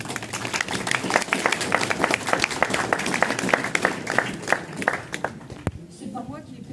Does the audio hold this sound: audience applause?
yes